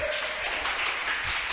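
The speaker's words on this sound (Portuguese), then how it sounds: "Aplauda a Jesus" A church congregation breaks into sustained applause during a sermon: a thick, even wash of many hands clapping that fills the room at a moderate level, with no clear speech.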